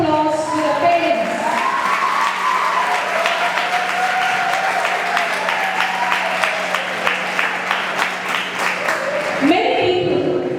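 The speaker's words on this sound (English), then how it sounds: "let us give us a loud round of applause to the parents" A crowd at a school investiture ceremony gives a loud, sustained round of applause for the parents, dense clapping filling about nine seconds before tapering off, with voices murmuring through it.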